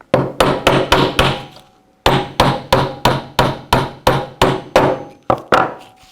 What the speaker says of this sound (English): And we'll just tap that pin in using our hammer.